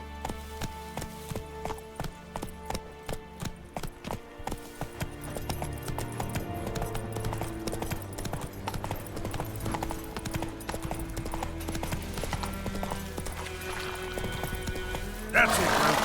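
Roach the horse gallops in The Witcher 3, hooves clip-clopping in a steady rhythm under a bed of music, with a brief snort or whinny near the end.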